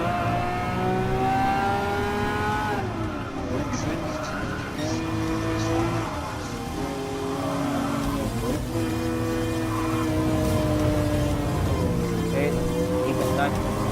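Race car engines whine loudly in a Gran Turismo Sport video game race involving a Dodge Viper, their pitch climbing and dropping through repeated gear changes while someone talks over them throughout.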